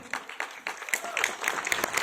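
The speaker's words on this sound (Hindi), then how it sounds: "थोड़ा जोरदार ताली हो जाए।" An audience applauds to welcome a Well Sports Performance whey protein product, with a patter of close, uneven claps and a voice faintly underneath.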